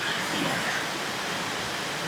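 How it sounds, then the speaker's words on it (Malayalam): Heavy rain pouring down in a Kerala homestead, a dense, steady, even wash of noise with no breaks. "മഴ തകർത്ത് വയ്യ."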